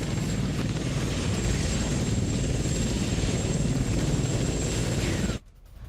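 An SA-342 helicopter in flight, a loud steady rotor and turbine drone sustained for over five seconds before it cuts off abruptly.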